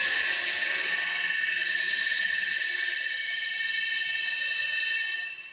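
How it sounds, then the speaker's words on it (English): A wood lathe spins with sandpaper held against a turning ladle, giving a steady, bright whirring hiss with sustained high whine tones. The sanding noise swells and drops in a few bursts before fading at the end. "turn back on the lathe, and while the lathe's speeding up, get myself ready"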